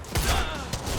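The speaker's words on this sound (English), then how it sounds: "Stop fucking shooting at us" Short burst of gunfire in the video game Quantum Break, a couple of loud close shots about a second apart with no talk over them.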